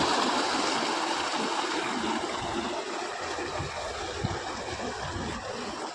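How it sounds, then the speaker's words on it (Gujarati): Water gushing steadily from a farm borewell pump outlet into a tank in a field, a continuous broadband rushing and splashing that stays loud and even throughout, with no talking. "બોર ચાલુ કરે છે।"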